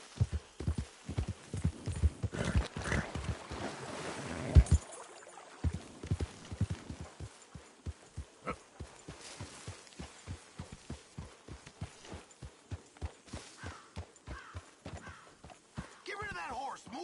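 Horse hooves clip-clopping in the video game Red Dead Redemption 2, a steady regular series of soft thuds at walking pace, close and fairly quiet, with brief talk early on.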